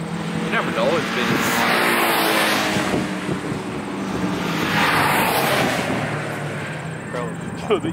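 A Honda Civic EP3 race car engine roars continuously and swells as it pulls away at a Mosport track event, loud and close throughout, with a rough, throaty tone.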